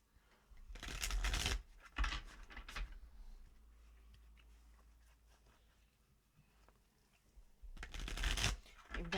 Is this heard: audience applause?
no